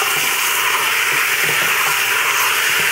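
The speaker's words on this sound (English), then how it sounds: "I'm just going to brown the meat just a little bit, just to sear it" Beef or pork searing in an oiled pot for chilli, a loud continuous sizzle with close, steady crackle and no pauses.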